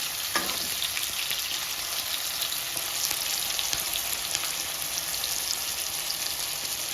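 Onions frying on high flame in a kadai toward golden brown, a constant close, even sizzle with light crackles and no voices.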